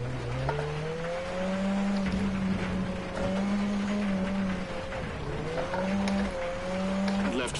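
Rally car engine in WRC 10 on a Kenya stage, droning steadily through hairpins with rising and falling revs as it swings through tight corners, loud and continuous with no voices.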